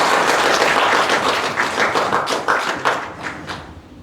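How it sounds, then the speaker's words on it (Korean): An audience in a conference hall at an arts center applauds to welcome a guest photographer, loud close clapping that starts full and gradually thins out, with a few sharper individual claps as it fades. "진동선 선생님께 큰 박수 부탁드립니다."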